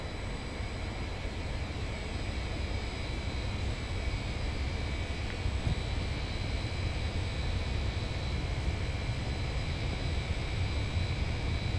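A simulated airliner in Aerofly FS 2021 takes off from runway 23 at Edinburgh airport with flaps 5 and TOGA thrust, a steady, loud engine roar and rushing rumble with a faint high whine and no talking.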